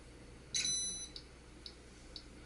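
A Balmuda steam toaster, water already added, gives a bright electronic beep as it starts running, one longer tone followed by a few short, evenly spaced faint chirps in a quiet room.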